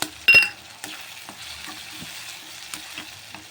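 Ripe tomato and drumsticks sizzle softly in a pan while being stirred, with a sharp clink of a spoon near the start and a low, steady frying hiss throughout.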